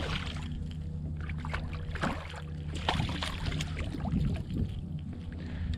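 A kayak is paddled while sight fishing for redfish, with soft splashes, drips and trickling water against a low, steady background, close by and without speech.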